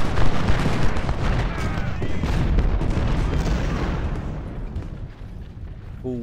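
Cannon fire in the Civil War strategy game Ultimate General: Civil War, at the Battle of Fredericksburg: a dense, continuous roll of heavy booms and rumbling detonations that fills the scene, thinning slightly toward the end.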